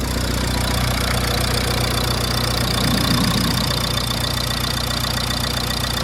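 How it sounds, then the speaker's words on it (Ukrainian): A car engine idles with a steady low rumble and even mechanical throb, close and continuous throughout. "Ну, роботу двигуна зараз побачимо."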